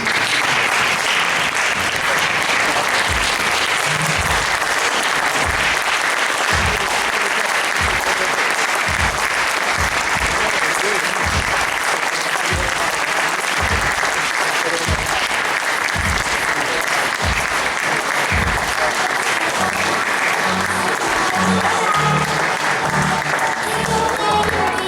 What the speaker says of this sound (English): You guys can clap a little louder than that.